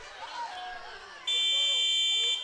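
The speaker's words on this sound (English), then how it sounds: "The shot clock went off, but it hit the rim just before that buzzer went off" A basketball shot clock buzzer at a high school game sounds a loud, steady electronic blare for over a second, following crowd noise and a commentator's voice in a gym.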